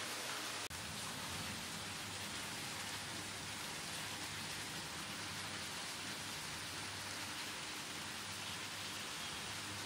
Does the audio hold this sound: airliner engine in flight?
no